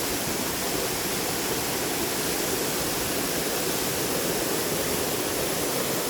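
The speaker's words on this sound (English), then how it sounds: "So this waterfall was about 10 minutes into the trek and there's no one here." A Costa Rican waterfall about ten minutes into a jungle trek roars steadily and loudly throughout, a dense, unbroken wash of falling water with no voices.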